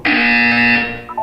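A loud, steady electronic buzzer from the video game Portal 2 sounds for about a second, a harsh sustained tone that then fades, with a brief blip at the end.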